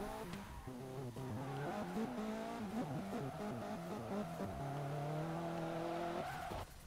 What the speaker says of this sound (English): There goes the Miata.